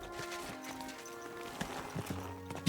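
Horse hooves clip-clopping toward the player in the video game Kingdom Come: Deliverance II, a quick series of hoof strikes over a tonal musical background, growing slightly louder at the end.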